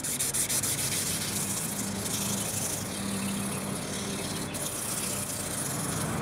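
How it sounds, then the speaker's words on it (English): 600 grit sandpaper rubbing steadily over the handle of a homemade chef's knife, a continuous close, hissing scrape with no pauses or talk. "Now we're gonna move to 600 grit sandpaper and then we're almost done."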